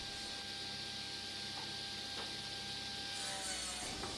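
Saw ripping rubberwood into strips, a continuous dense rasping whine with a few brief knocks, steady and moderately loud.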